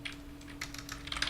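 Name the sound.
typing on a computer keyboard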